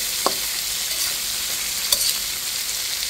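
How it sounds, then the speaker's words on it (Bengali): Hilsa fish pieces being turned over as they fry in oil, a steady close sizzle with a couple of brief stirring clinks, no talk. "মাছটা খুব সুন্দর করে উল্টে পাল্টে ভেজে নিচ্ছি।"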